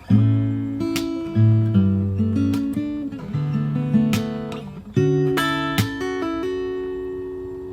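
Fingerstyle acoustic guitar plays two bars of a song, plucked bass and melody notes with hammer-ons and pull-offs, clear and close with no talking.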